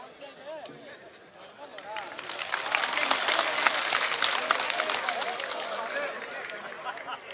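Loud crowd applause at a political rally in Malkheda village, Haryana, swelling into sustained clapping with scattered whistles and background chatter before slowly easing off.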